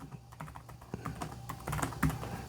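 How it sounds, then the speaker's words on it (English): Typing on the small keyboard of a Toshiba Libretto 50CT Windows 95 laptop, a close, fairly quiet run of irregular plastic key clicks and taps with no talking. "Typing on this machine is very difficult."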